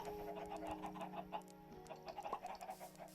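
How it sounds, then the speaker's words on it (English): Minecraft chickens cluck softly and repeatedly over a steady background tone, fairly quiet, with no talking. "Chickens are still here, I can tell that."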